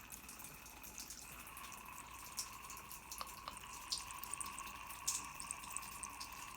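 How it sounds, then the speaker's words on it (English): Water draining and dripping inside an opened Kohler brass shower valve in a two-story house: a faint, steady trickle with scattered small drips plinking throughout, quiet and close. "It's a two-story house, so it's probably water from upstairs still draining"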